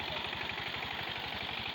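A tractor engine runs steadily in a muddy rice paddy, a continuous close mechanical chug with a fast regular pulse and no pauses or voices.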